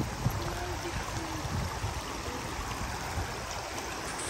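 A shallow mountain stream in Doshi village, Yamanashi, flows over stones with a steady, broadband rushing wash, close and continuous, with no talking.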